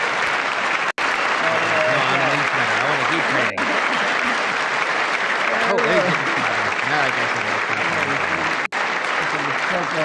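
Audience applause at a State of the Union address, sustained and steady for about ten seconds, broad dense clapping filling a large chamber with a few brief dropouts.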